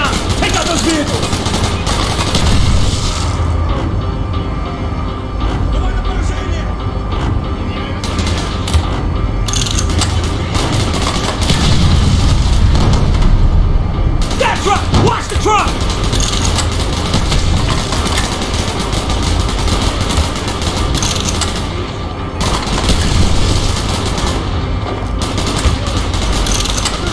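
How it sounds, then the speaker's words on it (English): Gunfire in the Call of Duty Black Ops campaign, with dense bursts and fusillades of automatic weapons running continuously alongside mechanical clatter, loud and close throughout, with shouted voices over the battle. "Gunfire's drawing attention."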